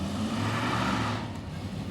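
A 1968–74 AMC Javelin 2-door hardtop, with others in a Fourth of July parade, roars nearby in a steady, loud engine rumble with a low throbbing growl that eases slightly toward the end.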